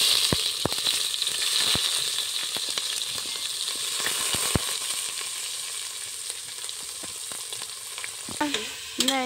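Onions frying in hot oil in a pan, a loud, continuous sizzle broken by frequent sharp spoon clicks against the pan as they are stirred, with a few louder scrapes near the end.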